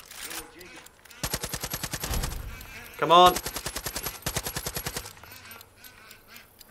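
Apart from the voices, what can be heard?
gunfire shooting at birds in the video game Far Cry 5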